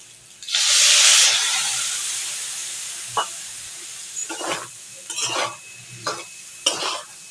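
Chicken liver in a hot pan bursts into a loud hiss as a little water is added, fading into a softer sizzle broken by several spoon scrapes and knocks.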